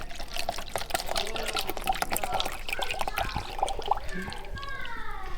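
Liquid pouring into a container to dilute a colonoscopy prep drink, a steady trickling splash that rises toward the end as it fills, with faint background noise.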